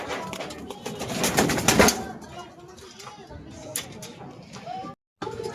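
Pigeons cooing nearby in a loft, soft throaty coos mixed with wing flutters, heard under someone talking.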